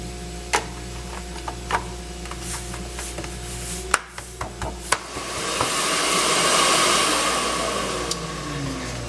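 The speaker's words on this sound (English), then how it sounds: "that's how you do carving with a router" A router carves a sunburst pattern in wood, giving a steady motor whine with sharp ticks and knocks from the cutter, then a swelling, louder cutting rasp toward the end. Nobody speaks.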